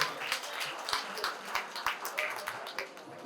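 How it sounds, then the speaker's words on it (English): An audience claps at an Igbo women's organization inauguration and induction ceremony in Abuja, a moderate ragged round of applause from a crowd heard at some distance and continuing steadily. "Can I have a round of applause for you?"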